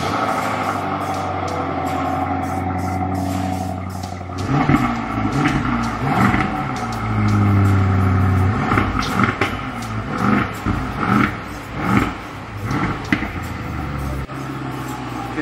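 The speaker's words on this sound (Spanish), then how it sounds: "Escuchen el V8 de" BMW V8 engine in a sedan converted to a convertible, revving repeatedly: deep loud rises and falls of engine pitch in several bursts over a steady idle rumble, close by, with no speech.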